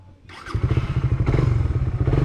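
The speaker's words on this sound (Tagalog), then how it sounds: "Nabubuhat ko na ang motor." A motorcycle is handled close by: a scrape and clatter, then a steady throbbing engine-like pulsing takes over and continues loudly to the end.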